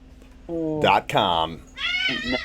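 A cat meows loudly in a drawn-out, wavering cry, then a second higher-pitched yowl follows after a brief pause, close to the microphone during a live stream.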